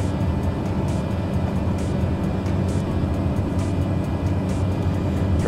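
A Cessna 208B turboprop in MSFS 2020 drones steadily and loud with its propeller at full RPM, a continuous low rumble and hum with no break or change in level.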